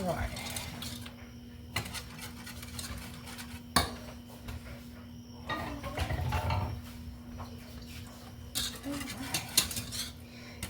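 A whisk rattles steadily against the side of a pot of hot homemade chocolate pudding, a close, continuous metallic scraping and clinking that runs throughout, with a faint steady hum beneath and a few louder knocks.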